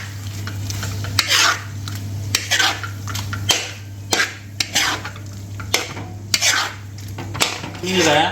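Partly cooked chicken with yogurt gravy is stirred in a pan; a spoon knocks and scrapes in irregular bursts over a low steady hum.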